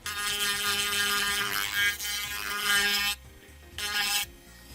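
Dremel rotary tool sanding a resin printed body shell, giving a loud, steady high-pitched whine that cuts out briefly and then returns, close up and with no talk over it.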